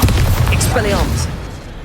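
A wizard's Expelliarmus spell cast in Hogwarts Legacy: a booming magical blast with a swirling, rising shimmer that sustains loudly for under two seconds before easing off slightly.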